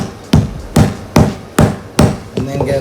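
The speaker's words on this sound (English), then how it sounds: "What you do is you hammer it down" Five sharp hammer blows, evenly spaced about every 0.4 seconds, ring out loud and close as leftover metal pieces are beaten down inside a school bus, each strike followed by a short metallic decay.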